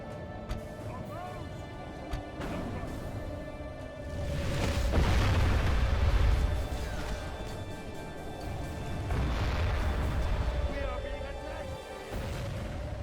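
Artillery fire in a video game battle set in Bavaria, heavy low booms rumbling in two broad swells under a steady background hum, with speech present in the mix.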